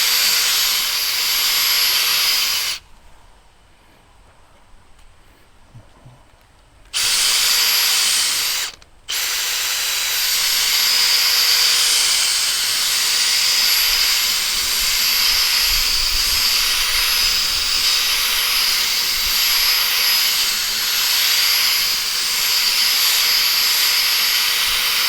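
A power drill spins a Chemical Guys light duty spinner brush, a loud, steady high-pitched whirring that cuts out twice for short pauses before running on continuously.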